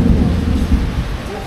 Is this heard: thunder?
yes